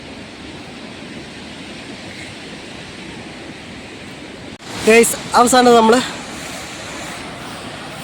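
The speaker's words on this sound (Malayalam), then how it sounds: "ലക്ഷ്യസ്ഥാനത്തെത്തി, വെള്ളച്ചാട്ടത്തിലേക്ക് എത്തി. വാവ്, വെള്ളം കുറവാണ് കേട്ടോ." A waterfall running with little water makes a steady, even rushing hiss throughout, and a voice breaks in briefly over it.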